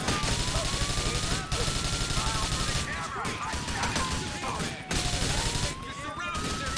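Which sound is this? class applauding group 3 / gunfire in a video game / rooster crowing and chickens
gunfire in a video game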